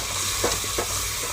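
Spices with salt and red chili fry for kadhi, giving a soft, steady sizzle with a couple of faint stirring scrapes over a low background hum.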